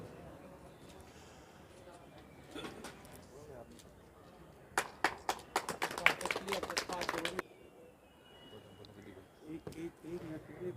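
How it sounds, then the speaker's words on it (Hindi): An audience at a swearing-in ceremony for newly elected officers of the Dr. Ambedkar birth anniversary committee in Delhi claps in a dense burst of a few seconds mid-clip, fairly faint, with speech before and after. "तालियां आप सबकी साथियों की होनी चाहिए।"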